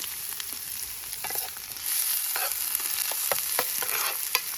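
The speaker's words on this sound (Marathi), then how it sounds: "चला कांदा टाकू मस्त." Onion fries in a pan over a campfire in the forest, a steady close sizzle with stirring scrapes that grows a little louder partway through. Nobody talks.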